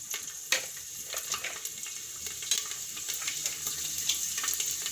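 Garlic dropped into hot oil after cumin, sizzling steadily with crackling bursts while a sweet potato curry is started; close, moderately loud, no talking.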